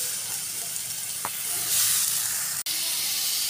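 Ginger garlic paste hits hot frying oil in a crab curry pan and gives a steady, close sizzling hiss that holds throughout, broken once by a short thud near the end.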